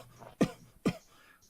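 A voice imitates someone coughing on a rooftop in a Wild West tabletop role-playing game: two short, sharp coughs about half a second apart, soft and fairly close over a quiet background.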